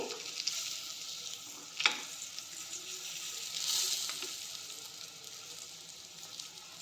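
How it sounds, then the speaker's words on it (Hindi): KFC-style chicken shallow frying in a pan over a low flame gives a steady, close sizzle and crackle that runs throughout, with a few brief clinks and stirring sounds. "मु सेलो फ्राई करछि"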